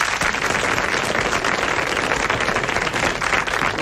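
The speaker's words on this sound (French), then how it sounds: "Et en plus, je m'applaudis." A studio audience on a 1988 French television talk show applauds steadily, a dense, even wash of clapping that holds at a constant level for about four seconds with no voices over it.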